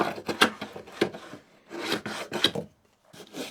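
A router plane cuts across a wooden tenon in short rasping strokes, several scraping passes with brief pauses between them, close and fairly loud with no voices.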